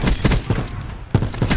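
Rapid bursts of gunfire from a gun in Black Ops 4, several quick shots in clusters with a short pause in the middle, loud and close, with no talk over them.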